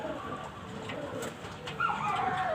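Racing pigeons at a derby cooing softly against a steady outdoor background, with a brighter, clearer call rising near the end; no one speaks.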